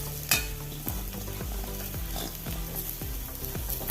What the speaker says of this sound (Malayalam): ഇനി കോവക്ക അരിഞ്ഞത് ഇട്ട് കൊടുക്കുക